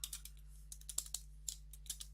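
A command is typed on a computer keyboard in short irregular runs of crisp, close clicks and taps, faint overall, with a steady low hum beneath.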